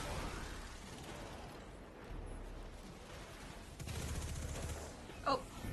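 Enemy gunfire in the video game Destiny 2, a rapid burst of shots and rattling fire under a muffled game soundscape, moderately loud with a sharper spike near the end.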